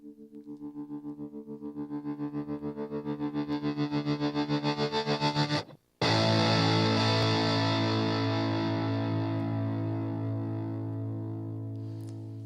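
A short electric guitar jingle through distortion and chorus-like effects. A swelling, wavering chord stops abruptly, then a heavy distorted chord rings out and slowly fades, with no talking.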